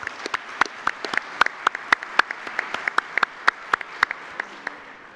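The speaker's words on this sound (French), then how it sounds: "Si on peut l'applaudir, ça sera avec plaisir" Sparse, scattered hand clapping from a small group, fairly close, a few dozen distinct claps over several seconds.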